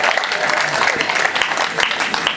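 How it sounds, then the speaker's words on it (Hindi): An audience at a Hindi poetry gathering (kavi sammelan) in a township hall claps in a dense, continuous burst of applause for women, with a voice faintly audible beneath. "ताली बजाइए महिलाओं के लिए।"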